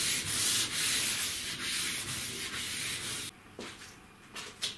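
Hand sanding of filler on a car body panel, a steady close rasping rub that runs continuously, then breaks into shorter, quieter strokes near the end.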